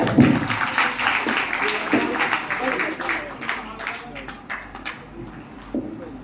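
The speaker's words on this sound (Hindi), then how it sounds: "जोरदार ताली बजा" An audience at a satsang gathering in an Agrawal hall claps steadily and fairly loudly, with a voice speaking over the applause.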